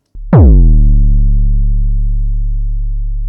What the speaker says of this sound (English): This creates a snap of distortion at the beginning of the sound, adding more presence to it.